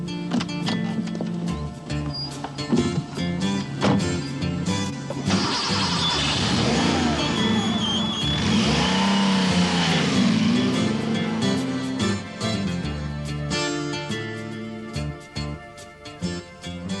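A Porsche 959 sports car is heard under a busy mix of other sounds, with an engine note rising and sweeping through the middle section as it pulls away and drives.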